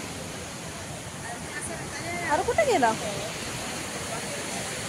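Steady, continuous surf from the sea at Devbag beach at sunset, where a river meets the sea, washes as a constant hiss while a voice speaks briefly over it.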